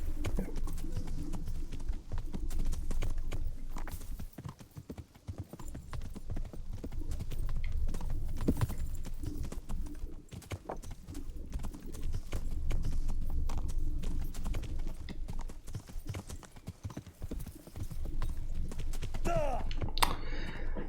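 Steady horse hoofbeats in the video game Kingdom Come: Deliverance clip-clop on and off for a long stretch, moderately loud, with occasional clicks and faint voices in the background.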